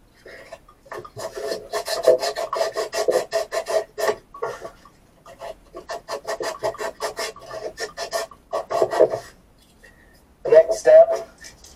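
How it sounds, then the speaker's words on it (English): Hand sanding paint off a freshly cut pipe with sandcloth gives repeated close rasping strokes in bursts of rhythmic rubbing, with brief pauses between sets. "get some of this paint off of here with just some sandcloth, or a wire brush may work just fine"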